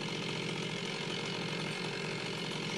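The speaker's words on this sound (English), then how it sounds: "there's your chainsaw." A chainsaw runs in the video game Minecraft, a steady buzzing whine that holds constant and loud without a break, no talking over it.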